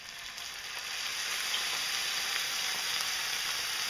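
Steady, loud sizzle of white wine hitting golden mushrooms in a hot pan, a continuous hiss that swells slightly after the first second and holds evenly, with no voices.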